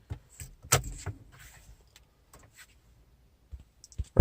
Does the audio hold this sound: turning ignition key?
yes